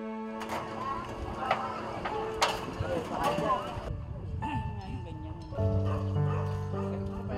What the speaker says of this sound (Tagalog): Yung aso!